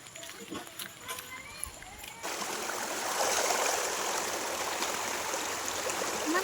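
A flowing stream near a family home in the evening, a steady broadband rush that takes over midway and holds to the end, preceded by brief faint voices and clatter.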